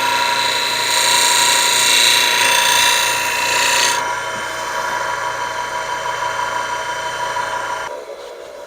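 A wood carving tool is sharpened by rolling it back and forth against an abrasive: a continuous rasping scrape with a brighter tone for the first half, then a duller grind before it stops near the end.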